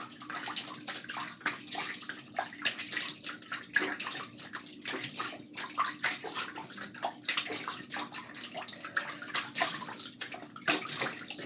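Water splashing at a sink while a face is rinsed, with uneven bursts of splashing and trickling over a steady running flow, close and fairly loud, no talking.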